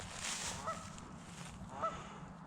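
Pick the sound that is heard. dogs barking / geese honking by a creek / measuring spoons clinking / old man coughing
geese honking by a creek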